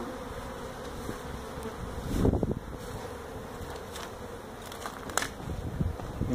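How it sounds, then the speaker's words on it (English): Honey bees hum steadily inside a hive built in a tractor tire, a close, continuous buzzing drone with a few brief louder rustles and bumps from handling partway through. "Let me show the people the bees inside that tire."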